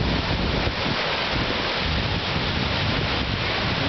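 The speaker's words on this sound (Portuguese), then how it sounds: "A onda, a onda! A onda!" Ocean waves at Enoshima beach in Kanagawa wash steadily onshore as a continuous loud surf roar with heavy wind buffeting on the microphone throughout.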